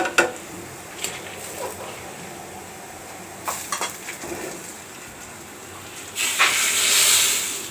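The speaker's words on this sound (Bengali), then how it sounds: "পেঁয়াজ রসুন" Onion and garlic are fried in a pan for a mango dal tempering: a quiet kitchen stretch with a few soft clinks, then a loud, hissing sizzle that swells near the end.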